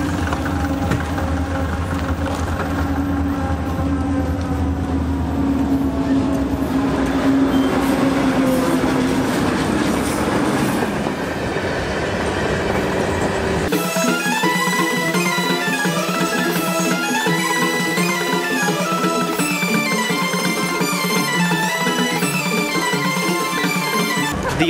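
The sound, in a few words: long train arriving at station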